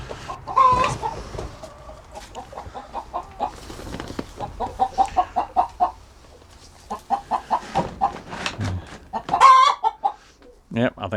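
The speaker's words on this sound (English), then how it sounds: "This is the songs that they sing when they've laid an egg, and they're all happy about it." Several hens cluck in rapid, rhythmic bursts after laying an egg, rising into loud cackling calls, close by in a chicken coop and continuing in waves with short pauses.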